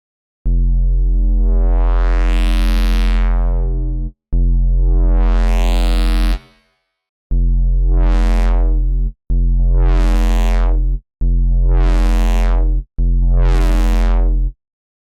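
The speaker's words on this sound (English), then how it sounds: "the mix comes up a little bit and we get a bit of reverb on the top end" Synthesizer tone with reverb added on the high end, heard as six loud, sustained bass-heavy notes with rising, sweeping upper harmonics, each cut off cleanly before the next, with no talking.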